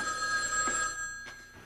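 A telephone rings with a bright, trilling electronic bell that stays fairly loud and continuous through the brief moment, then fades. No one talks.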